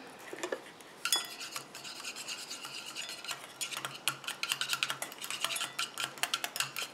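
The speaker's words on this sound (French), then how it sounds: "Ça se mélange très bien, il n'y a pas de souci." A utensil stirs a melted cocoa and banana powder conditioner mixture in a container, producing steady close scraping and clinking strokes that grow quicker and more rhythmic toward the end.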